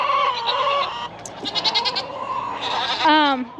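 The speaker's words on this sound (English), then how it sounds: "the noisy goats, they're ready to eat" Hungry goats bleat loudly and repeatedly close by, several overlapping wavering cries in quick succession with no talking.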